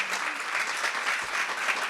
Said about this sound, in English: give a really warm round of applause